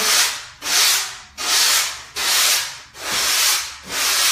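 A foam sanding block works the rail bevel of a 5'1 mini Simmons surfboard, giving six steady, close back-and-forth rubbing strokes with short gaps between them and no talking.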